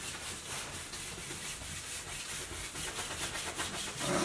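A paintbrush spreads a thin layer of white paint across a canvas, making a soft, continuous close-up rubbing and swishing with faint rhythmic strokes, heard alone.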